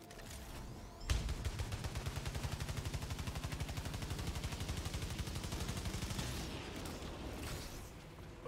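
Rapid automatic gunfire from the video game Returnal, a dense stream of shots that starts abruptly after a second of quiet ambience and runs steadily for about five seconds before tapering off, loud and close with no talking.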